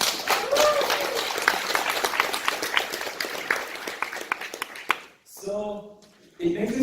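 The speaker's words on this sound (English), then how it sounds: "can you have a huge round of applause for all of you?" Audience applause at a university entrepreneurship launch event, a dense burst of many hands clapping that fades out, followed by someone speaking.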